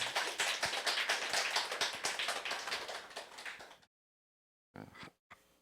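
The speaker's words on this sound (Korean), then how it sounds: "오늘 준비한 모든 분들 하나님께 영광 돌리면서 박수 한번 보내겠습니다" Church congregation applauding during a Sunday service, a dense run of many hands clapping for almost four seconds, then stopping, followed by two short bursts of a few scattered claps.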